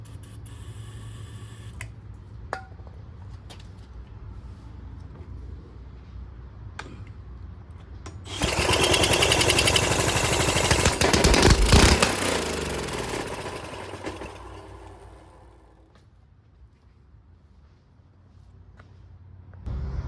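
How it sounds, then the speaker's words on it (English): A cheap $20 mini bike motor runs steadily, then surges louder and rougher for several seconds near the mic before settling back to a quieter idle, with faint clicks early on and no talk. "as you heard, the motor does sound good"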